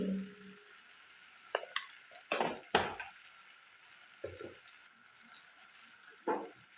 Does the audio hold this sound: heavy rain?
no